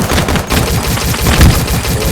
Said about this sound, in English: I almost shot him with the wrong gun